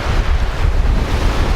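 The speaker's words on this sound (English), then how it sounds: "The ocean breeze, the sea is clear, it's gorgeous." Ocean waves wash and a sea breeze buffets the microphone from a boat off the Kenyan coast near Malindi, a steady loud rush of surf and wind with no voices.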